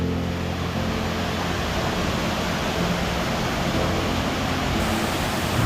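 A natural waterfall roars as a dense, steady rush of falling water, loud and close, with no breaks and no voices.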